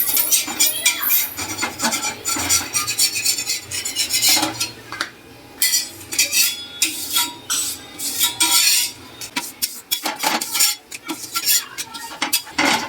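Papad being roasted on a hot iron griddle (lodhi), close scraping and rasping with metallic clinks and crackling, coming in uneven bursts with short pauses.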